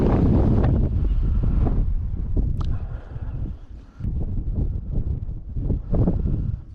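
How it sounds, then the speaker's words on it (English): Wind gusts against the microphone outdoors on a breezy day, a loud low rumble that rises and falls in waves, with a brief faint sound in the middle. "it's a beautiful day. A little bit windy"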